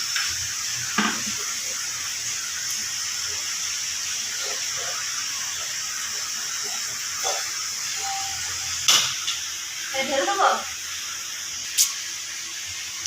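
Semolina fritters fry in a pan with a steady, bright sizzling hiss that runs throughout, broken by a few sharp clicks and light clatters from utensils.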